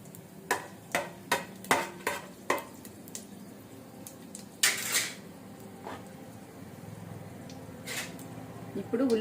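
Whole spices go into hot oil for coriander rice: a run of sharp, evenly spaced taps and clinks, then a short, bright sizzle burst that settles into a faint, steady fry.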